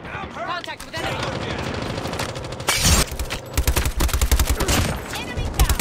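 Rapid automatic gunfire in Call of Duty Mobile on the Kill House map, loud bursts of shots coming in quick runs that grow denser and heavier toward the end, with no talk over them.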